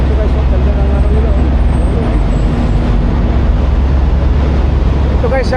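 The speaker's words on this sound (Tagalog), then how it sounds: "Ito maingay din yung truck na to" Loud, steady engine rumble from a truck idling at a large truck stop in Kenly, North Carolina, with a constant low drone and broadband road-like noise filling the whole stretch, plus faint voices in the background.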